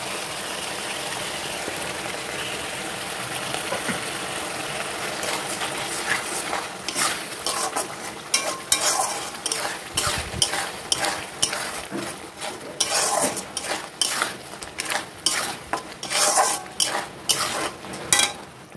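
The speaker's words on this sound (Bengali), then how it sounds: "আমি এবার আদা রসুন কাঁচা লঙ্কা বাটা পেস্টটা দিয়ে দেবো।" Ginger, garlic and green chili paste being fried with browned onions in a pan for a malai chicken korma, heard as soft sizzling with repeated scraping and clinking of a spoon stirring against the pan.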